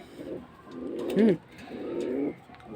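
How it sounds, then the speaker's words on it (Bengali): A baby Kamagar pigeon coos close by in a few soft, throaty rolling notes, with one sharper rising call in the middle and no talking. "এই যে কবুতরটা"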